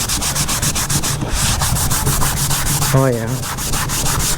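A scuffing pad scrubs an old armrest from a 1993 GMC Sierra truck interior, giving steady, loud rhythmic rubbing strokes that continue throughout, with a brief voice interjection partway through.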